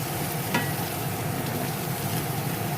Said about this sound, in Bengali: আলু পটলটা আমি এভাবে কষে নিচ্ছি।